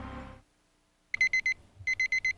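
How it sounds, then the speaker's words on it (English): An alarm clock in a TV commercial rings in two rapid bursts of sharp electronic beeps, four then five, after a short muffled sound and a silent gap. "This is the 4th time you've hit the snooze bar."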